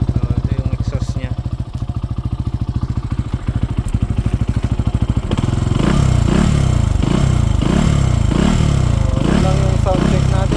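Benelli TNT 135 small motorcycle on its stock exhaust, close by: a fast steady idle putter, then a jump to louder throttle blips rising and falling in a repeated revving rhythm.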